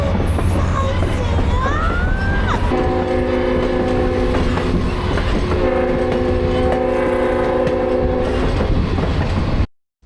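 A Maryland Scenic Railroad train in western Maryland rumbles steadily along the rails in winter, with long sustained horn blasts sounding over the continuous rolling noise.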